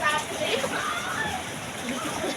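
Water pours down and splashes steadily into a deep pool, a close, continuous rushing wash while people talk over it.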